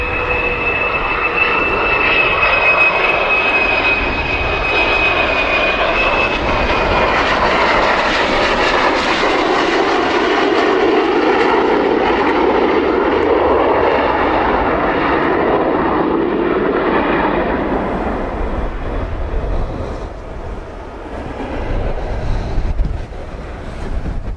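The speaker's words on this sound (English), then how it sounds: "it sounds like F-15s are starting up again now" Jet engines of F-15 fighters spool up at an air base, a loud steady roar with a rising whine that swells and then eases slightly, heavily buffeted by wind on the microphone.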